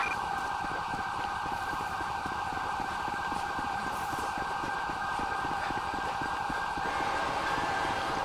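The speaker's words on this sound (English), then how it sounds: "Gonna get hit by a train." A train in Grand Theft Auto V sounds a steady, loud horn or whistle tone over a continuous rumbling, clattering roll that lasts throughout without a break.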